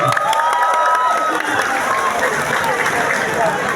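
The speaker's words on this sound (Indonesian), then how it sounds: "Tepuk tangan untuk Pak SBY." A large crowd at a political gathering in Aceh applauds and cheers for former president SBY, a loud, continuous clamor of clapping with voices and shouts mixed in, and tonal calls rising above the noise.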